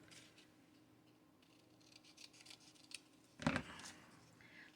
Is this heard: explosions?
no